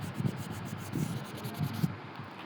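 Hand rubbing or sanding across an object, soft repeated scraping strokes in a steady back-and-forth rhythm, quiet and close with no talk.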